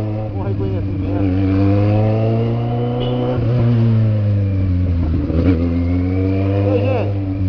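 A Kawasaki Z750 motorcycle engine roars and revs steadily up close, its deep, loud drone swelling and easing slightly throughout with no break.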